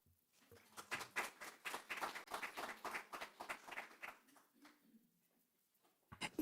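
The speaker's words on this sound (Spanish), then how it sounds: "La recibimos con un aplauso." A small audience applauds a speaker at a talk, with a few seconds of close, uneven clapping that thins out and fades before a brief final patter.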